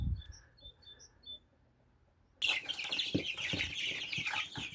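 Chicks in a warm incubator brooder chirp in faint, high peeps at first, then a louder, denser burst of chirping and scratching fills the last half.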